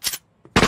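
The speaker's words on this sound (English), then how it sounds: "Hey, Brown, go draw their fire." Machine gun fire in a cartoon scene, two loud short bursts of rattling shots separated by a brief gap, close and sharp.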